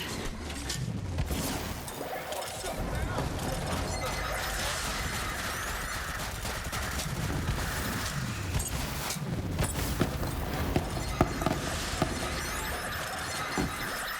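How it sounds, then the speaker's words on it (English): Grenades burst and guns fire in the Borderlands 3 video game, a dense, continuous stream of blasts, crashes and clattering impacts that grows busier and sharper toward the end. "And then we're going to chuck out all of our grenades."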